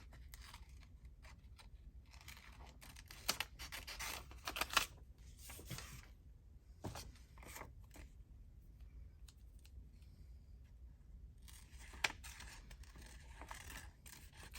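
Scissors trim around the edges of paper on a handmade envelope journal, with quiet, intermittent snips and crisp cuts in short clusters spread across a mostly quiet stretch, plus faint handling rustles.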